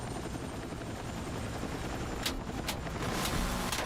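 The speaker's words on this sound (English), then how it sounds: "Oh, I'm in the helicopter now." Helicopter in the video game Battlefield 6, a continuous close rotor thrum with sharp cracks of gunfire bursting in over the last second and a half, and no voices.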